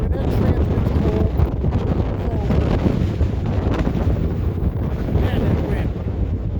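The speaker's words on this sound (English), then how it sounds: "Man, that wind." Strong wind gusts steadily across Oneida Lake while fishing in November, a constant loud rushing roar buffeting the microphone, with a voice faintly heard under it.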